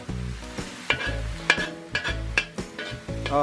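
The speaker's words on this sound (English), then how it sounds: "And we stir fry that up" Bacon gochujang fried rice with egg stir-fried in a hot pan: steady close sizzling broken by repeated rhythmic scrapes and clanks of the utensil, loud and without speech.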